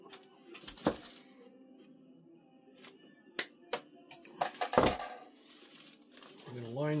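Material is cut for a Guillows model plane in a workshop: quiet, irregular snips, crinkles and taps up close, with brief handling noises between cuts.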